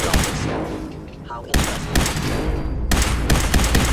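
Automated turrets firing at synths in the Fallout 4 video game produce dense, sustained bursts of gunfire, loud and close, with abrupt cuts between blasts.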